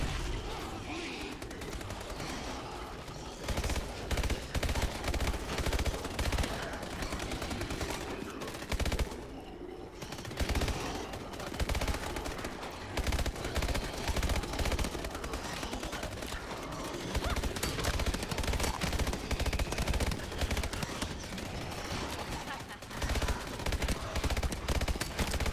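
Sustained rapid gunfire in Advanced Warfare Exo Zombies, dense automatic bursts with brief pauses running nearly nonstop, close and loud.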